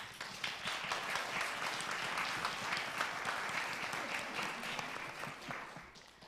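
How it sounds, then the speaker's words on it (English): Steady, dense audience applause fills the room after a film screening at a panel discussion, sustained clapping from many hands at an even level throughout, with a little crowd murmur underneath. "I just want to give you a round of applause"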